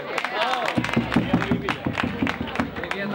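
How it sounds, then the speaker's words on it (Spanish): A street carnival audience at a chirigota performance in 2014 breaks into applause, a dense, steady wash of hand claps with crowd noise and some voices mixed in, sustained and fairly loud throughout. "Fuerte aplauso. Fuerte aplauso."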